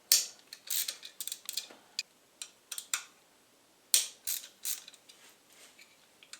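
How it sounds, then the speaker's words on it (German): Ratcheting wrench clicks while unbolting the ignition distributor on a Porsche 968, two bursts of rapid close mechanical clacking separated by a short pause, loud and with no talking. "Können wir dann auch den Zündverteiler demontieren."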